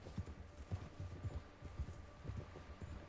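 Horse hooves clip-clop at a steady walking rhythm in Red Dead Redemption 2. The rider carries a hogtied captive on horseback. The hoofbeats are soft and fairly close, with quiet game ambience behind them.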